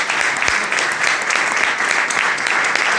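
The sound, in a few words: audience applause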